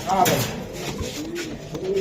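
Racing pigeon cooing in short, throaty rolls close by, repeating over two seconds while someone talks over it.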